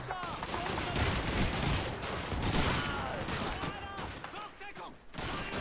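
Gunfire in the World War II video game Call of Duty 2 comes as a rattle of shots and bursts with sharp cracks, while a commentator's speech runs in and out over the battle.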